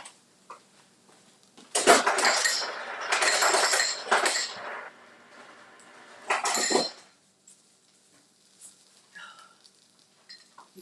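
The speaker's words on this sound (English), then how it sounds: "Getting some ice." Ice being scooped and dropped into a glass or container in a home kitchen, several bursts of crisp clinking and rattling separated by pauses, close and fairly loud, with no talk.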